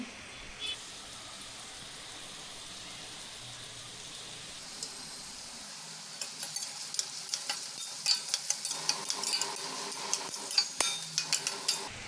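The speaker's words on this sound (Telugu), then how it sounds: "కడాయి తీసుకుని టూ టేబుల్ స్పూన్ ఆయిల్ తీసుకుని అందులో ఆనియన్స్ వేసుకుని" Onions fry in two tablespoons of oil in a kadai with turmeric and curry leaves, a soft hiss at first that grows into busier sizzling with repeated scraping and clinks of a stirring spoon.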